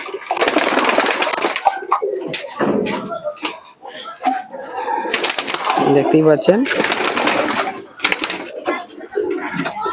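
Pigeons of the Master Bear breed coo in a loft with other Pakistani pigeons, soft throaty calls mixed under frequent talking from people nearby.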